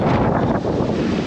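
Strong, cold wind buffets the microphone at People's Park in the Sky in Tagaytay, above Taal Lake, as a loud, steady rushing roar that fills the short moment with no voices.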